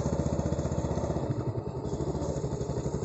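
Motorcycle engine chugging steadily at low speed on a muddy path, a close, continuous rumble with slight surging as the bike creeps along.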